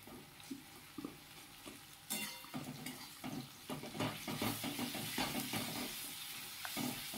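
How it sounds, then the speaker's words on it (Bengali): Ginger-garlic paste sizzles in a pan for a chicken curry, a steady close frying hiss broken by scraping stirs, growing busier after the first couple of seconds. "এইবার আস্তে আস্তে দিয়ে দেবো 2 চামচ আদা রসুনের পেস্ট।"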